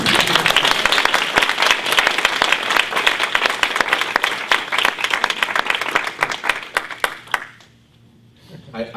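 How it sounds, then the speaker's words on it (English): An audience at a science-fiction and fantasy writing panel breaks into sustained applause, dense overlapping claps filling most of the span before cutting off abruptly near the end. "every time somebody speaks, everybody claps"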